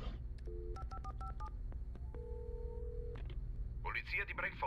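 Telephone dialing in the video game Alan Wake Remastered: a quick run of distinct keypad tones followed by a ringing tone, then a voice starts speaking at the end over low game ambience.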